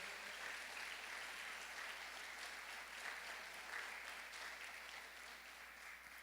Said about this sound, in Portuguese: Pode aplaudir bem forte ao Senhor.